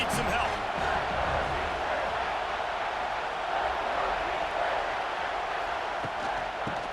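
A stadium crowd swells in EA Sports College Football 26 during a Notre Dame vs USC game, a dense, sustained roar of cheering that stays loud and broad, with a commentator's voice over it.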